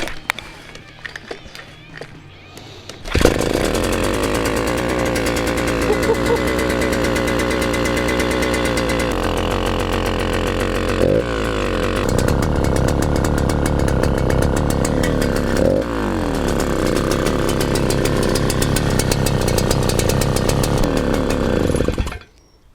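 A rebuilt paramotor engine starts after a few faint clanks and runs loud and steady for about nineteen seconds, a harsh buzzing drone with slight shifts in pitch, then cuts off abruptly.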